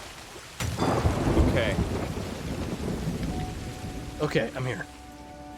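Rain and thunder at sea in Sea of Thieves: a loud thunder crack and rumble over steady heavy rain, with a second burst later, while a person speaks briefly.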